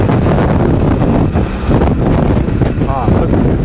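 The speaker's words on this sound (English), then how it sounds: "I have no idea what this bike is gonna do with all this wind." Strong, gusty wind roars steadily across the microphone while riding a motorcycle at around 30 to 40 miles per hour, a loud continuous buffeting rush with no break.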